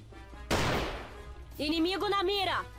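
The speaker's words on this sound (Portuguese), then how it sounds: "Estou ouvindo tiros." A single sharp gunshot bursts in a shooter video game, loud and brief with a decaying crackle, followed by a voice talking over the game.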